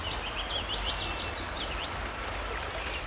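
Repeated bird song phrases, bright chirping calls in a rhythmic series over steady outdoor ambience in upland red kite country, clear and fairly close, no speech.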